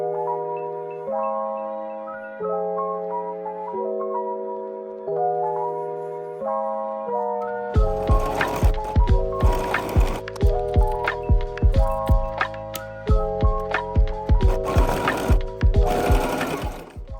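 Sewing machine stitching a long seam on a thrifted prom dress, with tonal music playing first, then loud rapid needle bursts in repeated runs over the music.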